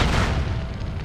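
A booming grenade blast in the SOCOM video game fills the moment with a loud, low, rumbling roar that fades slowly, with no voices over it.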